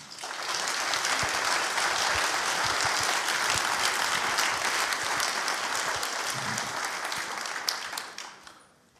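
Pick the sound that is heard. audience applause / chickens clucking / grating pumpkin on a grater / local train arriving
audience applause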